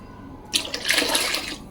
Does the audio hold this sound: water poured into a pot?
yes